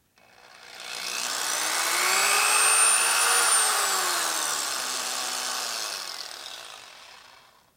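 A drill bores steadily through a Harley-Davidson Twin Cam compression release drill fixture, a continuous grinding whine ramping up, holding for several seconds, then tapering off, close and alone.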